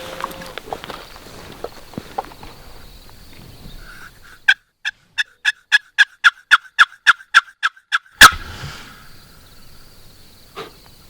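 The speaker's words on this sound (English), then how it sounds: "Turkey. Way over there somewhere." A wild Merriam's turkey gobbles far off in Montana in a quick run of evenly spaced, rattling notes, with faint rustling and footsteps before and after.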